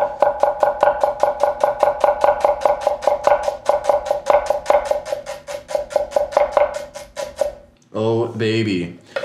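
A Japanese bunka kitchen knife chops shallot on a cutting board in a quick, steady run of crisp taps lasting several seconds, then stops as a voice starts talking.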